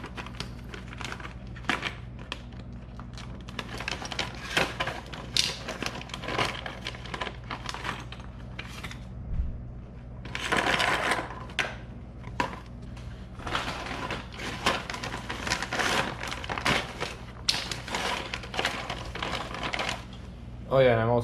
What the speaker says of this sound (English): give you more room for your impact when you're screwing in those studs into the backers